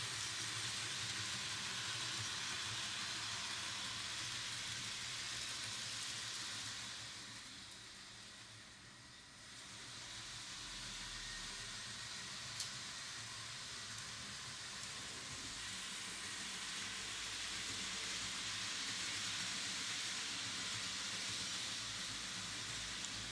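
Model train of the Rheingold set pulled by a BR184 locomotive running on a layout, a steady close rolling and whirring hum that dips briefly in level as it passes, then stays continuous, with no voices.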